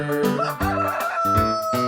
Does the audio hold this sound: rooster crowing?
yes